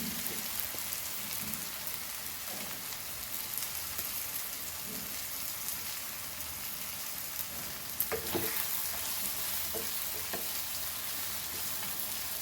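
Goan squid masala frying in a pan, a soft, continuous crackling sizzle with occasional louder pops and stirring scrapes, steady and unbroken.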